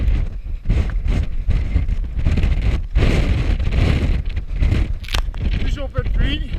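Strong wind buffets the microphone during a trail run on a 4x4 track at the Northburn 50 race in New Zealand, with heavy low rumbling gusts rising and falling over quieter moments, plus some rustling and crackle.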